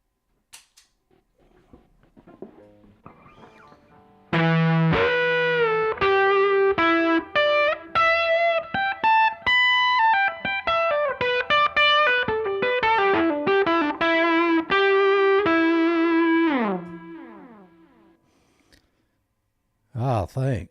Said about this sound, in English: I have a second delay I'll turn on that sounds like this